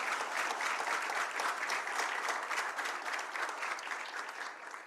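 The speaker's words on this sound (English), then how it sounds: "Let's give our chairman a big round of applause" Round of applause for the chairman at an anniversary health event: a dense, sustained clapping crowd of many hands, loud and steady across several seconds, tapering slightly at the end.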